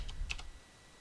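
A few quick computer keyboard keystrokes, three light close clicks in a short burst and then quiet.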